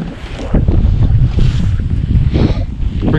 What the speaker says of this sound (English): Don't you just love fishing in the wind?